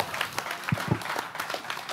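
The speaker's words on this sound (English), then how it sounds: "Applause." A burst of applause from a small audience, scattered claps rattling together at moderate volume.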